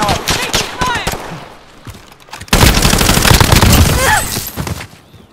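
Rapid bursts of gunfire crackle through a military shooter video game, dense volleys that pause briefly and then surge louder and closer, with voices speaking now and then.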